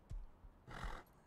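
A horse in the survival video game Rust gives two short snorting whinnies, a brief one followed by a longer breathy neigh, close and fairly quiet, with no talking.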